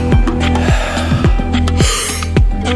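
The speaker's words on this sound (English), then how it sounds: "Just like a gasping technique through the mouth, like you just heard shocking news." Rapid, forceful gasping breaths through the mouth during a circular breathing exercise, about five sharp inhales in a steady rhythm, close and loud over a sustained background music drone.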